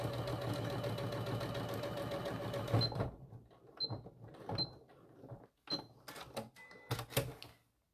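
A sewing machine stitches a mini bag in a steady mechanical whir, then stops and gives way to several short bursts of clicking and handling noise, quiet and close.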